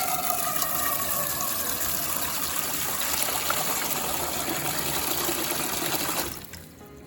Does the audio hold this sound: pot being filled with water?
yes